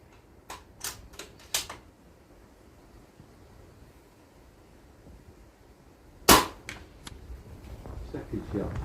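Two sharp, cracking shots from a sub-12 ft-lb air rifle fired outdoors, the first a loud crack followed by fainter clicks and handling noise, with light wind in the background.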